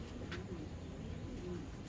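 A Morni pigeon coos softly in a steady low murmur, faint against a constant background hiss, with no voices over it.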